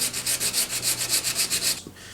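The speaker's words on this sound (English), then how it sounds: "We're just still kind of sanding this edge" Rhythmic back-and-forth scraping of 150-grit sandpaper against a cracked surfboard rail, about a dozen steady strokes close up, then stopping.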